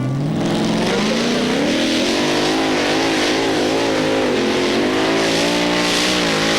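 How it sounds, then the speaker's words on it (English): A Keith Black 511 V8 Hemi engine in a pulling tractor roars loud and continuous at a 1995 European tractor pulling event in Hörby, Sweden, its pitch wavering as it strains under load. "Keith Black 511 V8 Hemi with Dirk van Dasselaar behind the wheel."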